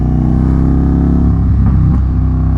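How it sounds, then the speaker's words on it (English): A loud Indian FTR motorcycle engine idles with a deep, throbbing rumble close by, then revs up briefly, the pitch climbing and wavering. "His motorcycle is so loud."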